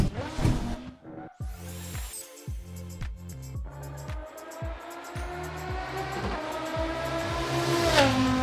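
A race car runs laps at Detroit, its engine repeatedly revving up through the gears with sharp shift breaks, a rising, aggressive note growing louder toward the end.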